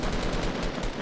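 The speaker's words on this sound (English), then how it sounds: "You're shooting the wall, Curly" Rapid automatic gunfire in a Fortnite-style shooter game, a dense continuous burst of shots for about a second, loud and close, with a voice talking over it.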